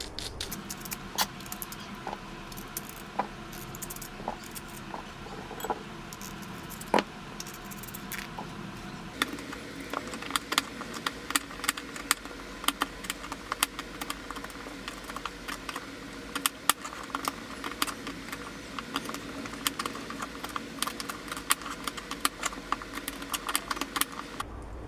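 A knife cuts through mangoes on a board as kasundi is prepared, giving a steady run of crisp, close clicks and taps, with the chopping denser in the second half; no voices.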